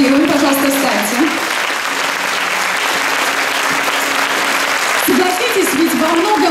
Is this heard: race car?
no